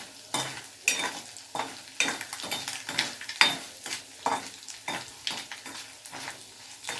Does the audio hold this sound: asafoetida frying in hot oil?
yes